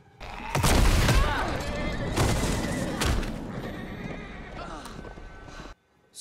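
A horse whinnies loudly with clip-clopping hooves and dull booms in a zombie-horde scene from The Walking Dead: The Ones Who Live, close and dramatic throughout.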